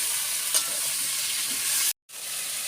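Peas pulao sizzles and crackles while being stirred in a pan, a steady bright hiss with a scrape or two, briefly cutting out near the end, and no talking.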